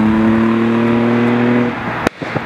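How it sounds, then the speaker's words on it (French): Datsun 240Z six-cylinder engine holding a steady, loud rev with strong harmonic drone for about two seconds, then cutting off with a sharp click and brief rattles. "où la magie du 6 cylindres s'opère. Et croyez-moi, ça chante."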